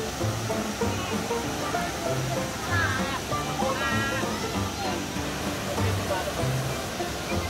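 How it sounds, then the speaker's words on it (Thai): The large Tat Kuang Si waterfall roars steadily and close, a constant rushing wash of water, while people's voices are faintly heard over it. "น้ำตกตาดกวงสีนี่จะ ใหญ่พอสมควร"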